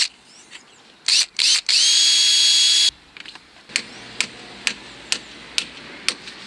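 Fascia board being fixed at a roof corner on a loft conversion, heard as a burst of loud power-tool whine followed by a steady series of sharp, evenly spaced nail strikes ringing out alone.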